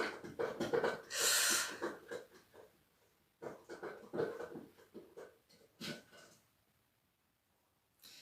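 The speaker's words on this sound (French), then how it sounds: "Oui, j'ai un chien. C'est ça qu'on entend." A dog plays with a can, producing bursts of scraping, rattling and clattering with snuffling breaths, coming in irregular clusters separated by short quiet gaps, fairly close.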